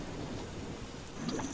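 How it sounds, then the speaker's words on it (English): Steady rain hisses in Don't Starve, a dense even patter that fills the whole stretch with no voices over it. "Maybe it'll be done raining."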